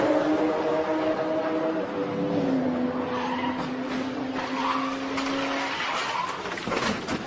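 A Supercars race car pulls away after spinning, its engine note climbing loud and close under a harsh tire squeal that fades as it drives off.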